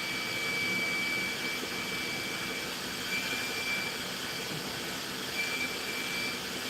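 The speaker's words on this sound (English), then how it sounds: "I don't know how loud that vacuum is, but I'm hoping that the camera's not picking it up" A vacuum cleaner drones steadily in the background of a Mazda B2300 repair session, a constant whooshing roar with a thin high whine, unchanging for several seconds with no talking.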